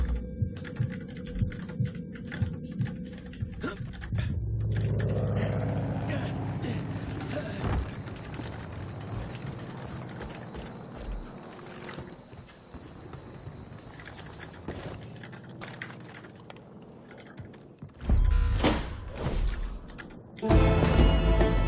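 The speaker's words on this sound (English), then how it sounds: "It's almost therapeutic listening to your keyboard." Keys clatter on a computer keyboard in a steady, close stream of clicks and taps over a low room hum, swelling louder near the end.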